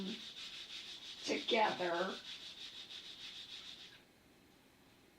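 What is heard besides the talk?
rubbing glued paper layers onto a handmade card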